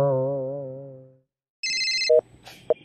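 A phone rings with a repeated electronic ringtone, loud and close, following a long sustained tone and a short pause, with brief clicks and blips between the rings.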